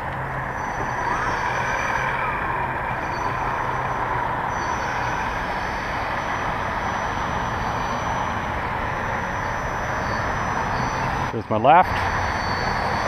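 An Apprentice S 15e RC model floatplane taxis at low speed on water, its electric motor giving a steady, continuous drone throughout, with a brief spoken remark near the end.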